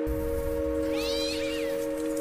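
A cat gives a single drawn-out meow over a steady background hum, near a trash bin where cats are running about in an animated story.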